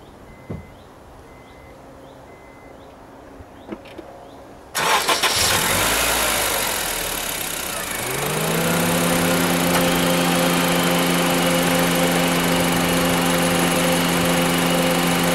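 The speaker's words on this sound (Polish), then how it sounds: "uruchamiam, słuchajcie, silniczek" A car engine cranks and catches partway through, a sudden loud start after quiet, then settles into a steady idle with a constant hum, heard during an air-conditioning PAG 46 oil top-up.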